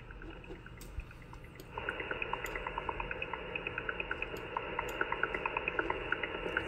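An unknown digital shortwave radio signal on 11114 kHz at its slower rate: a steady band of warbling data tones with regular bubbling clicks, faint under hiss at first, then rising clearly in the middle of the clip.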